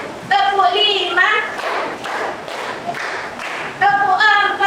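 Hand claps counted aloud in a classroom, a steady run of several claps with a voice speaking before and after them.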